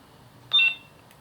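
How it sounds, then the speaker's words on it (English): A Nano Biscotti V4 lightsaber gives a single short electronic beep as it switches into mute mode, clear over a faint low hum. "if you hold this down, it will give you a beep sound"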